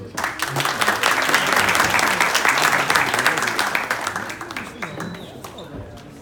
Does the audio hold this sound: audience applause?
yes